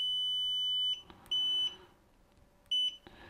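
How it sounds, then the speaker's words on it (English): Three piercing high electronic beeps from a FNIRSI 2C53P handheld oscilloscope-multimeter, the first long and the others shorter, separated by quiet pauses, loud and close. "it has a very loud beep"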